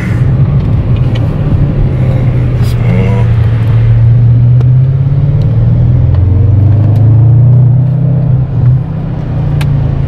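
Audi RS6 with an aftermarket exhaust accelerating in sport mode, a loud, deep, booming engine drone rising and falling in pitch from inside the car, with people talking over it.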